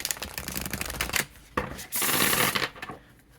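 An oracle card deck is side-shuffled, cards riffling and slapping together in quick papery bursts, a short pause between shuffles, close up and fairly soft.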